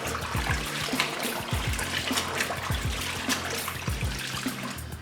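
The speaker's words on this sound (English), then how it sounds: "we got a really good rinse on these greens here" Collard greens being rinsed and pushed under water in a kitchen sink, with steady trickling and sloshing water and a few soft splashes repeating through the clip, close and moderately loud with no talking.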